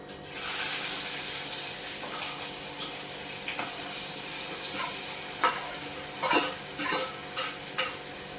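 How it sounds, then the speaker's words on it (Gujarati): Onions sizzle over full flame in oil with mustard seeds and cumin in a pan, a steady hiss broken by scraping stirs and light clatter that grow busier toward the end. "કાંદાને આપણે ગોલ્ડન ફ્રાય કરીશું."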